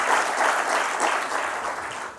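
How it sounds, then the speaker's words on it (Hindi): An audience claps steadily to welcome guests at a workshop event, a dense, sustained round of applause that fades slightly at the end. "मैं आपसे अनुरोध करता हूं कि जोरदार ताली बजाकर आपका स्वागत करें"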